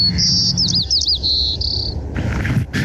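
A white-crowned sparrow sings a loud, close song of clear whistles followed by buzzy, trilled notes, alone against a quiet outdoor background.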